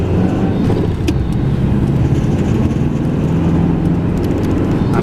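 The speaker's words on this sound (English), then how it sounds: "Try hold second gear and with higher rev to should be warming up" Subaru Impreza engine, 1.6 swapped to 2.0, held in second gear at high revs on a very cold day, a loud steady drone with low rumble throughout.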